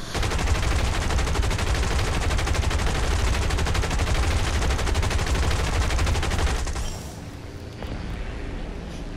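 Heavy, continuous gunfire in War Thunder pours out as a dense, roaring barrage for about seven seconds, then cuts off, leaving a quieter background rumble.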